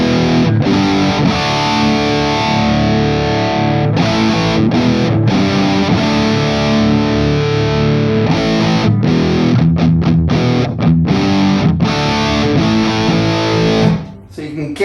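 Heavily distorted electric guitar through a modded 1977 Marshall JMP amp, playing loud sustained chords and riffs throughout, with a brief dip near the end.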